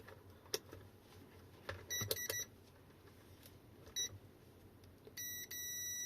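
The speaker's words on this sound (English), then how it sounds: "Multimeter's in continuity mode, and the fuse is intact." A multimeter in continuity mode beeps while a 40 amp fuse from an electric trials bike battery is tested, giving faint short beeps and then a sustained tone over quiet background noise.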